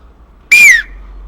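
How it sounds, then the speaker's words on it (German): The small whistle built into a bushcraft multitool gives one short, shrill, loud blast lasting about a third of a second, falling slightly in pitch at the end, alone in a quiet room. "eine Pfeife, ich denke nicht, dass die sonderlich laut ist."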